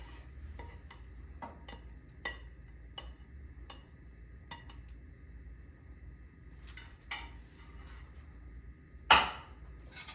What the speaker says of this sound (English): give it a nice little stir there